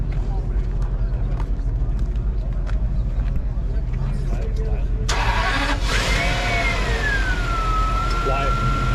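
A Toyota Century V12 engine turns over, with a sharp ignition burst midway that settles into a smooth, quiet hum. Before the start, outdoor background noise and people talking nearby.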